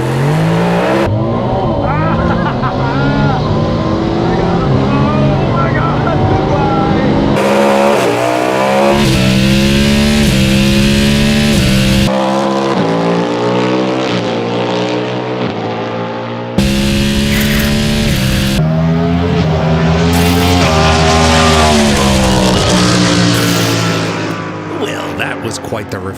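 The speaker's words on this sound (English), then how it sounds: "the Ferrari made it easy. All I had to do was mat the pedal and occasionally pull an upshift paddle" A Ferrari 296 engine at full throttle, rising hard in pitch through several gears with abrupt drops at each paddle upshift; the loud, continuous acceleration wail runs close and dominant throughout.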